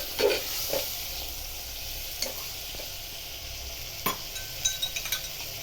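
Potato and pointed gourd curry, Gujarati style, sizzles steadily in a pan while a spoon stirs it, with a few scraping clicks against the metal and no talking.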